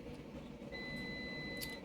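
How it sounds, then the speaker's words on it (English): A faint, steady electronic beep tone sounds in the background, holding for over a second beneath a quiet room hum. "I hear the beeping in the background."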